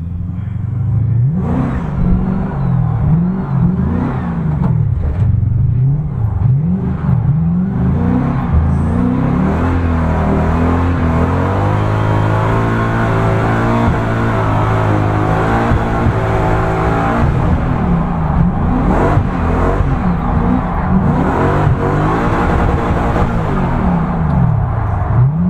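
A drift car fitted with a Battleist Driftbit steering-lock kit, set to 46 degrees, drives with its engine droning and revving steadily throughout, rising and falling in pitch with occasional throttle surges, loud and close with no talking.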